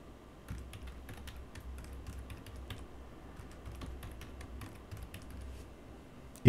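A password is typed on a computer keyboard: a quick, uneven run of close key clicks lasting several seconds, with a louder tap at the very end.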